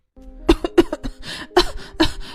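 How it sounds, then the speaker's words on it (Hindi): Several sharp, close coughs in quick succession, harsh and throaty, with short gaps between bursts, from someone choking on a bite of hard, dry flatbread. "2 निवाले खाते ही उसे खांसी आ जाती है।"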